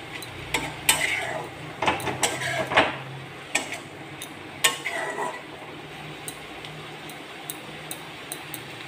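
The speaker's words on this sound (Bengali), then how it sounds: "এবার আমি শাকটা নাড়াচাড়া করে তার জলটাকে শুকিয়ে নেব।" Ghyatkol leaves stirred in a frying pan, with irregular metal scrapes and clinks of a utensil against the pan over a soft, steady sizzle, close and moderately loud.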